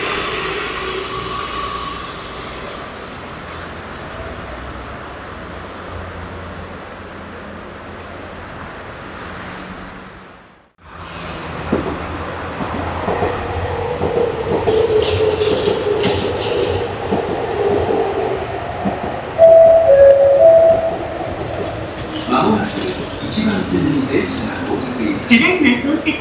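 A train rumbles into Komyoike station on the Senboku line in Japan during the morning rush, growing louder, its wheels clattering and brakes squealing, while a public-address voice announces over the platform noise.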